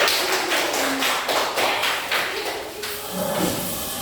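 Students in a classroom clap their hands together in a dense, steady burst of sharp claps that lasts several seconds before thinning out near the end.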